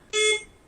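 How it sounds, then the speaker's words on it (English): A household smoke alarm sounds a single loud, shrill electronic beep lasting about a quarter second, then falls silent. "It's the alarm."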